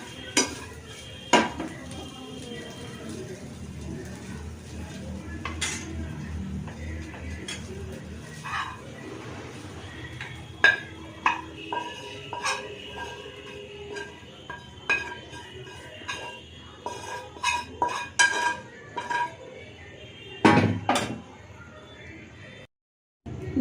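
Metal pans and utensils clink and scrape as fried chicken and egg are lifted out of the pan in a home kitchen, irregular close knocks and clatters with a faint sizzle between them and a brief silence near the end.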